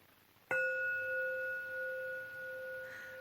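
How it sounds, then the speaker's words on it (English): A gong is struck once, near and loud, then rings on with a steady sustained tone that slowly fades through the rest of the moment, with no voices over it. "The sound of this gong, let us accept it."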